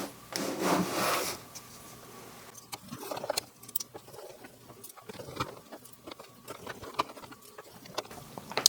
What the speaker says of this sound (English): I'm going to put all the screws back into it.